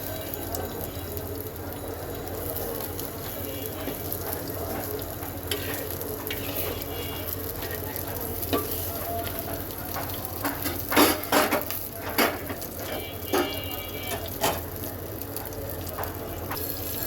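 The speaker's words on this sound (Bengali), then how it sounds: "খুব বেশি ভাজার দরকার নেই শুধু এপিট ওপিট করে ভাজলেই হয়ে যাবে" Steady crackling sizzle of shrimp frying in hot oil, with scraping and clinking of a utensil stirring in the pan toward the end.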